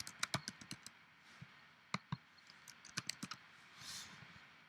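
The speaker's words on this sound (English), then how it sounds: "We're going to type the text in our label that says prepared by, and then your name." Typing on a computer keyboard while entering label text in an Access form: quiet, irregular bursts of crisp key clicks, close and faint, with no talking.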